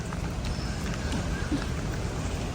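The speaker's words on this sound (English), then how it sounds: "it's going to be raining all day" Rain falling during the rainy season in Panama around a boat out of the water, a steady close patter with scattered individual drop hits over a constant hiss.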